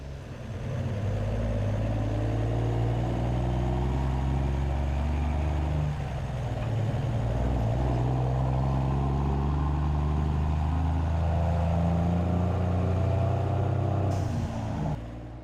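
A farm truck on a Nebraska John Deere farm idles and runs loudly and steadily close by, a deep rumbling drone that holds for the whole stretch with slight swells in pitch.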